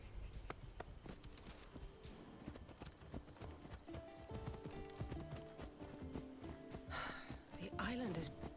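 A horse's hooves clip-clop steadily in an Assassin's Creed video game, with ongoing game sounds and a brief whinny near the end, while people talk over the top.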